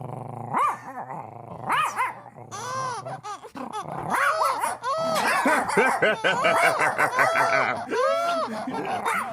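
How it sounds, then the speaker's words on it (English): A big dog growls and barks in bursts, rough and close, while people laugh and talk over the noise throughout. "Good big dog."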